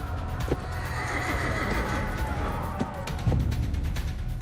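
A horse whinnies in a long, wavering neigh, fairly close and clear, with a few sharp knocks and hoof-like thuds around it.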